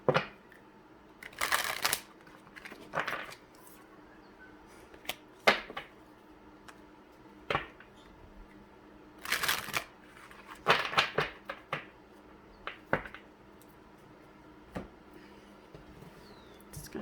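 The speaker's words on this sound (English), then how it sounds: "Gonna shuffle these cards." Tarot cards shuffled by hand in a quiet room, with sharp riffling bursts near the start and again around the middle, plus scattered softer taps and slides between them, all close and without talk.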